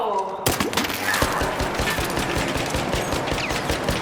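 Rapid automatic gunfire in the video game ARC Raiders erupts after a brief quiet start, then rattles on as a dense, loud burst of shots with heavy thuds throughout, close and sustained.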